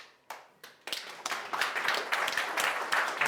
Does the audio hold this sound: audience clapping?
yes